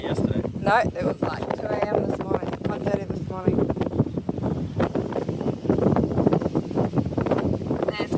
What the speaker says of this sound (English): This wind is going to wreck this